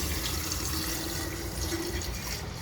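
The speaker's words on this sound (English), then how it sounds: "I'm gonna pour my brine in." Pickling brine seasoned with bay leaves and celery seed pours steadily over eggs in a container, a continuous close liquid rush and splash.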